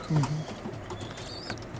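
Racing pigeons coo close by in a loft, a low throaty coo at the start followed by softer bird sounds, with a person talking over them.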